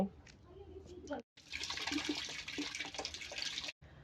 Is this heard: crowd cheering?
no